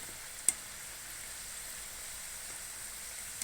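Sweet biscuit-like snack frying in hot oil, a steady faint sizzle running throughout with a brief sharp pop near the start.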